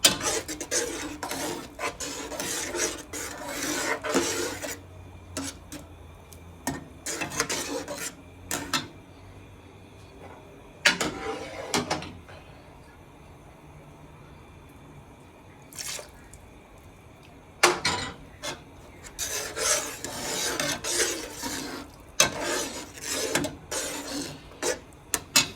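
A spoon stirs a thick sweet dish of milk, sugar, oil and vermicelli in a pot, giving soft scraping and liquid rubbing strokes in irregular bursts with quiet pauses between, close and moderately loud, no talking.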